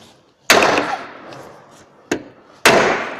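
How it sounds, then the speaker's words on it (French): Hammer tapping an office chair's gas cylinder into its star base: three sharp knocks, two loud and one lighter, with a ringing decay after each, close and alone. "si vous n'avez pas donné 2 petits coups de marteau, l'étoile risque de tomber"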